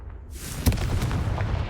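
A Confringo fire spell blasts in the Hogwarts Legacy video game, a sudden booming burst followed by a rolling, crackling fiery rumble that keeps going for over a second.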